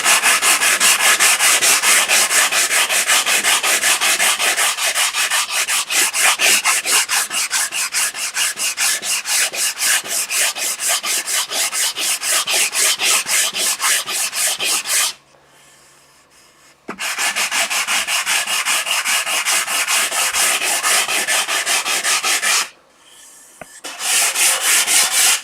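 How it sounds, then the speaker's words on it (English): Hand sanding of wood with a sanding block and 150-grit paper, rapid back-and-forth rasping strokes in a steady close rhythm, loud and continuous, broken by two short pauses. "Sanding block and a little bit of 150"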